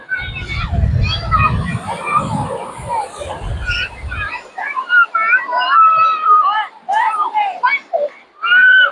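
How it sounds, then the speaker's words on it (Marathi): Crowd of children playing and shouting in the sea at Juhu beach, lively overlapping shrieks and calls, near and loud, with a low rumble of surf early on and a voice talking in the mix. "पोहण्यासाठी पण भरपूर गर्दी आहे इथे बघा"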